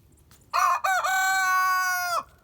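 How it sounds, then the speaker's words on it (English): A chicken, an old hen in a backyard flock, lets out a loud, close, drawn-out crowing call of nearly two seconds over quiet surroundings. "And this is my oldest chicken right here."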